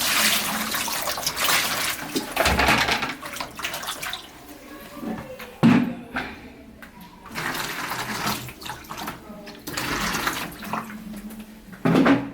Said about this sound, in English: So I'm adding cold water.